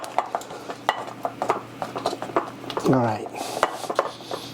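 Utensil scraping and clinking around a pot as white chocolate mint fudge mixture is stirred, a string of close rhythmic clacks and scrapes with a brief squeak, under a short spoken word.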